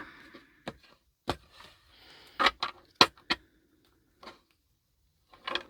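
Tarot cards being shuffled: a scattering of short, crisp riffles and snaps in uneven bursts, close by with quiet pauses between.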